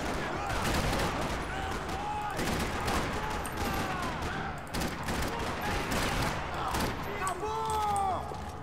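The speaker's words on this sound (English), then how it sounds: "Another parking lot rattling with gunfire." Dense, rapid gunfire in the video game Max Payne 3 crackles and rattles nonstop in a parking lot, with bursts overlapping amid echoing shots and metallic tones; voices occasionally mix in.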